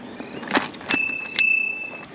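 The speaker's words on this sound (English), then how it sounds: "We need to ring the bell." A bicycle bell rings a few times while riding along a street, with clear, close metallic dings, the two strongest about half a second apart, each leaving a short ringing tail.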